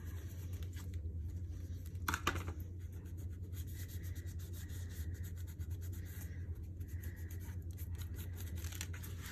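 A closed pop-up paper page is rubbed flat by hand, giving a soft, steady papery swish that runs throughout, close and quiet, with one brief louder scuff partway through.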